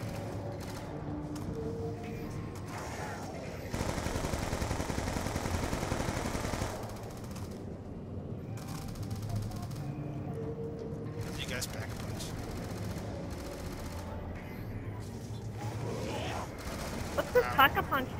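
Gunfire in Call of Duty Black Ops 2 Zombies on the Alcatraz map: sustained rapid automatic fire and game noise run throughout, with bursts and pauses, and voices talking over it.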